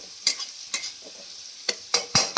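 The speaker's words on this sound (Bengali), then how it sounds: "চিকেন করব, তার জন্য মশলাটা ভালোভাবে কষে নিচ্ছি।" Spice masala for chicken curry being fried and stirred in a pan, sizzling softly beneath several sharp, close spatula scrapes that come at irregular intervals.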